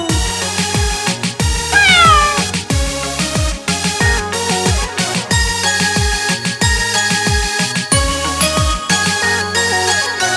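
Meows of a cat, likely a sampled or sung imitation, sound within a bright, rhythmic Hindi children's rhyme, repeating over steady beats and melody with one clear rising-falling meow standing out.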